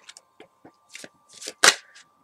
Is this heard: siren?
no